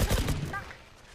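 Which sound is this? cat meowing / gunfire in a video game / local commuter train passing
gunfire in a video game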